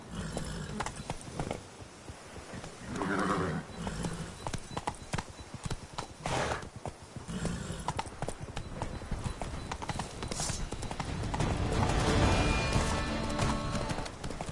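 Roach, the horse in The Witcher 3: Blood and Wine, gallops with a steady, close clip-clop of hooves over several seconds, gathering loudness toward the end amid game ambience.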